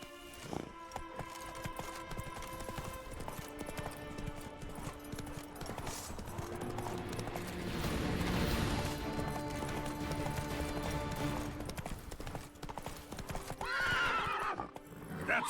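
Roach, the horse in The Witcher 3, with rhythmic hoofbeats and a whinny, over a music score and other game sounds, moderately close.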